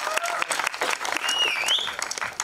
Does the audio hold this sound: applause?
yes